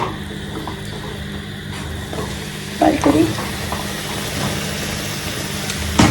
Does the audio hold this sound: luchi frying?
yes